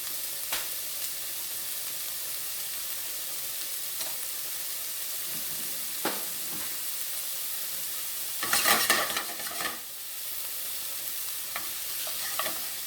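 Peppers cook in a hot pan with a steady, even sizzle, with occasional stirring scrapes and a louder burst of crackling partway through, close and without talk.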